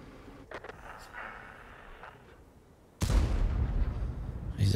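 A tank gun fires in a tier 10 tank battle game, a sudden heavy boom after a quieter stretch of faint distant shots, followed by sustained loud rumble.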